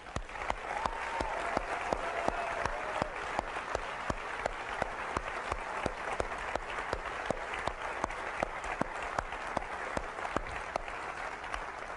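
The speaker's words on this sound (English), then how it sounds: "I'd like to give them a round of applause" A keynote audience at a 2003 Apple iTunes special event claps for Apple staff, a continuous, fairly loud wash of many hands with sharp individual claps standing out, holding steady for about twelve seconds.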